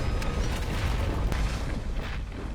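An explosion in the film Snowpiercer sets off an avalanche that slams into a train: a loud, continuous, booming roar of rumbling destruction that fills the whole stretch without letting up.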